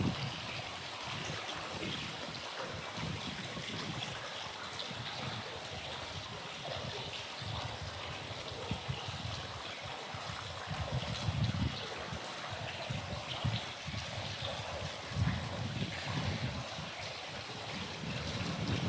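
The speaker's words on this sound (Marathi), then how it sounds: "पाणी पडतंय बघा." Water pours steadily into a large farm well, a continuous rushing splash heard at moderate distance with a hollow, outdoor character, holding an even level throughout with no talk over it.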